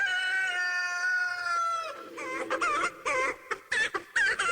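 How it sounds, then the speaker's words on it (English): A hen or rooster gives a drawn-out squawk, then a run of choppy, broken clucks, close and loud, with no talking. "We give you a chicken."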